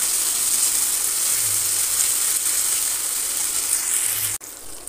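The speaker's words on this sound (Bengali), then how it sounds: "এখানে টমেটো কুচুটা দিয়ে এবার নাড়াচাড়া করবো।" Chopped tomatoes sizzle steadily in a hot pan while being stirred, a constant hissing fry that runs unbroken and ends with a brief sharp knock.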